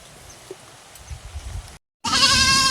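Goats bleat as a herder drives them along, first as a faint, scattered bleat over low rustling and background noise, then after a brief silence one loud, close, strained bleat that carries to the end.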